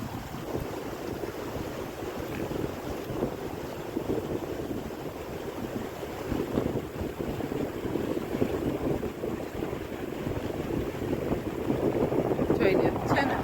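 Steady wind buffeting outdoors on an empty road beside flooded monsoon fields, a continuous loud rushing roar with microphone wind noise throughout.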